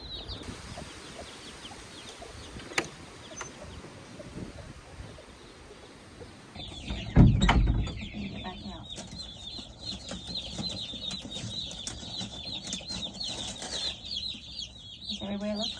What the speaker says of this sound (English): I was on pickup chick duty today, so I'm gonna go and put them in the brooder.